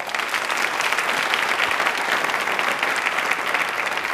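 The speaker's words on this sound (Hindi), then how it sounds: "वापस से अपने लिए तालियां जोरदार होनी चाहिए ना" A studio audience at a televised Hindi quiz programme applauds loudly and steadily, a dense, even wash of clapping that holds throughout with no talk over it.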